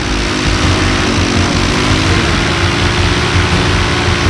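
Paramotor engine running roughly in flight and getting worse, close and loud, a continuous buzzing drone with a slightly uneven tone throughout and no talk.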